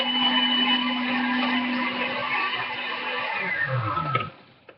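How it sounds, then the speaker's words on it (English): A blender whirs steadily while mixing a Shakeology shake, a loud close motor drone that runs for about four seconds and then winds down and stops. "how to make my favorite Shakeology drink"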